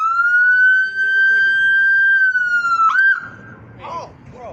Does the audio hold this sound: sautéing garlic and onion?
no